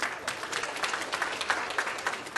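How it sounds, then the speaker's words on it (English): Audience applause fills a hall right after a lot sells at a charity auction for an Islamic school, steady dense clapping from many hands throughout, moderately loud with no voices over it. "Big round of applause, inshallah."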